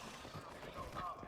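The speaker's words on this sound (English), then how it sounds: "Turrets are just going to be annihilating every enemy that comes in the path." Automated turrets fire on waves of enemies in the Once Human video game, giving a faint, rapid rattle of gunfire with scattered impacts and a busy mix of game noise behind it.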